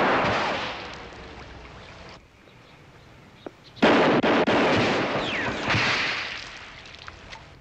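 Gunshots in a Western drama scene: a sharp crack followed by loud, rough bursts of blast noise that fade unevenly over several seconds.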